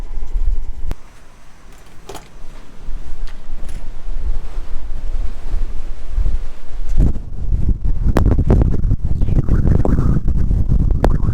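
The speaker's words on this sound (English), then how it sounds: "I wanted to show you guys how windy it was" Strong wind gusting outdoors, buffeting the microphone with a loud continuous roar and harsh low rumble that surges and thumps, growing rougher toward the end.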